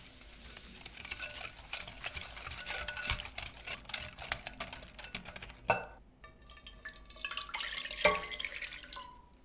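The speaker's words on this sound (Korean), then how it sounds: "여기에 설탕을 넣고 손거품기를 이용해서 잘 저어주세요." A hand whisk beating egg whites with sugar in a bowl for Halloween meringue cookies, quick light clinking and scraping strokes in an irregular rhythm, close and fairly quiet, with no talk.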